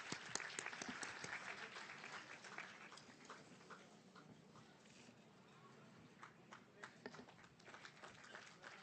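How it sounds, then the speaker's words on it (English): An audience at an Islamic economics and finance conference applauds, a dense patter of clapping that starts strong and gradually thins out over several seconds, heard from a distance in a large hall. "Give a heartfelt round of applause"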